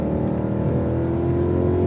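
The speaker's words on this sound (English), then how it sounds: "the pops on the upshifts are terrific" A Ford Mustang GTD engine revs loudly in a steady, dense roar with a rising tone from inside the cabin; the pops on upshifts are not distinct in this short stretch.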